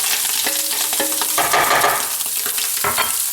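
Shallot sizzling and frying in a pan with bacon, a steady loud crackle and hiss up close, with brief stirring scrapes through it.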